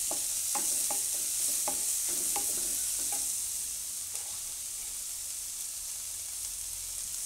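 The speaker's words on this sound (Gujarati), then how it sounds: "ડુંગળી એમાં થોડીક વાર પકાવી લે 1 મિનિટ માટે" Onions cooking in a pan for sprouted methi soup, a bright steady sizzle with a few quick stirring scrapes early on that settle into a quieter hiss.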